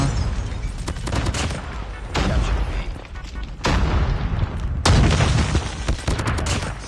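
Rapid automatic gunfire in the mobile shooter game Call of Duty Mobile comes in several dense bursts separated by short pauses, loud and close, with booming impacts.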